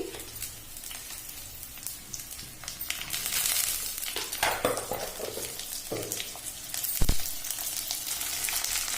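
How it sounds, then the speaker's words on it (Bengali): Cumin, garlic and ginger paste frying in a pan for a curry, heard as a close crackling sizzle that swells as the paste hits the oil, with stirring scrapes and a sharp knock. "প্রথমে আমি জিরা রসুন বাটাটা দিয়ে দিচ্ছি, আদা বাটা দিয়ে দিচ্ছি"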